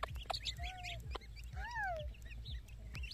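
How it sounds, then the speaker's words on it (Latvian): Farmyard ducklings and chicks together, with repeated clucks and rising and falling peeps, a few sharp calls scattered over a low steady background, close and moderately loud. "Tās ir pīles."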